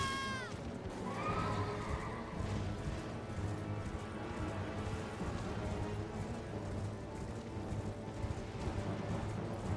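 A horse in Elden Ring lets out a sharp whinny at the start of a boss fight, followed by dense combat rumble and clatter that continues steadily.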